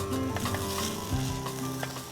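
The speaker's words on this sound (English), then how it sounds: "I love the sizzle and the smell." Steady crackling sizzle of garlic and red chilli frying in a hot pan, close and continuous, with faint stirring and no voices.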